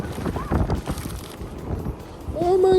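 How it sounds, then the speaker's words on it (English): Outdoor wind buffets the microphone in low, rumbling gusts that rise and fall over a few seconds, ending in a brief higher tone. "It's windy."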